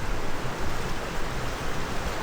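The River Bollin flows after its level has dropped, a close, steady wash of rushing water with no pauses and no other sounds.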